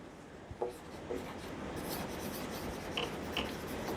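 Pen or chalk writes out a curve during a maths lesson on derivability, making quiet scratchy strokes with a few brief taps over a faint room hiss.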